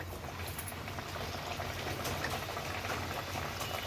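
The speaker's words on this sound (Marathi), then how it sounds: "आता हा वडा सोडूया आपण तेलामध्ये" A kombdi vada made from bhajani flour is dropped into hot oil to fry, giving a steady, loud, dense sizzle that continues throughout.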